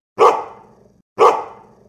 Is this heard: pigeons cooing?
no